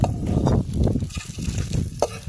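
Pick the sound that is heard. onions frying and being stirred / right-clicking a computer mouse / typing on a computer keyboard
onions frying and being stirred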